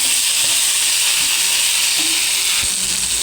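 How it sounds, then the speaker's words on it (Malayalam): Onions and tomatoes sautéing in a pan for a fish curry, a loud, steady broadband sizzle and hiss throughout with a faint clink near the end. "ഇപ്പോൾ ഉള്ളിയും തക്കാളിയൊക്കെ ഇങ്ങനെ വാടിക്കൊണ്ടിരിക്കുകയാണ്"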